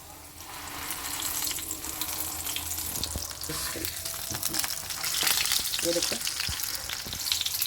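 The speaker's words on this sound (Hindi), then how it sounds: "4 से 5 मिनट में ये चिकन का कीमा एक साइड से पकाएंगे और 4 से 5 मिनट ही दूसरी साइड से पकाएंगे" Chicken mince chapli kebabs sizzle and fry steadily in a pan, a continuous close crackle with occasional scraping and clinks, under a brief spoken remark.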